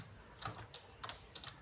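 Soft keystrokes on a computer keyboard tap out a short, uneven run of clicks, faint and close, with no voices.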